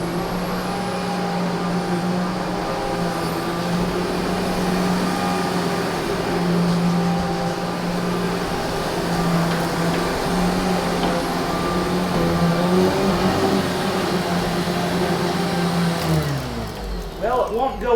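A Sanitaire SC5713 HEPA commercial upright vacuum, a design about 20 years old, runs steadily with a loud, constant motor drone as it is pushed around objects. Near the end the motor winds down.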